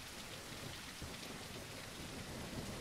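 Steady heavy rain with rumbling thunder surrounds a battered car missing its hood in a zombie road-trip video game, a dense, continuous wash of downpour with low booms underneath and no voices.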